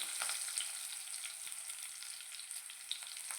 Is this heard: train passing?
no